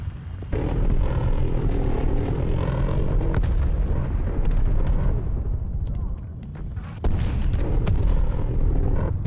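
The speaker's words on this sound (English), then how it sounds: "there's my strafe run" A strafe run killstreak tears through a Black Ops Cold War match on the Nuketown '84 map, a loud, sustained barrage of rapid gunfire and booming impacts with aircraft roar that dips briefly near the end before surging again.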